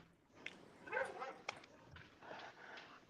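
Faint indoor dog noise, a few yips and whimpering barks scattered over about three seconds, heard at a distance with some background room sound and a hint of voices.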